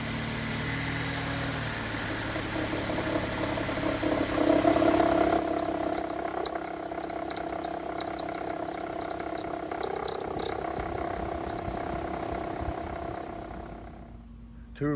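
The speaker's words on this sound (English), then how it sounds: "we have a ugly vibration with a squeaking noise coming from the belt area" A faulty belt tensioner on a Dodge, Chrysler or Jeep 2.4L engine squeaks and whirs steadily under a running idle, close up and continuous, with the engine hum fading out near the end.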